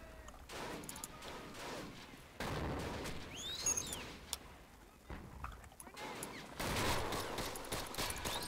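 Machine gun fire rattles through a WWII video game set in a 1946 invasion of Japan, coming as repeated bursts and scattered shots that stay faint and distant against a busy battlefield background.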